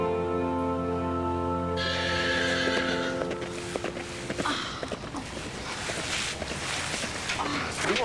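A horse gives a loud, drawn-out neigh up close, then hooves clop steadily on hard ground as it moves off, continuing for several seconds.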